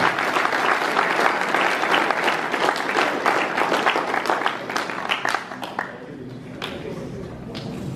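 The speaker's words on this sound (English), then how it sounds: "Let's give him a round of applause." Loud, dense audience applause at a foundation trophy presentation, a full crowd clapping steadily and close for several seconds before thinning out to scattered individual claps near the end.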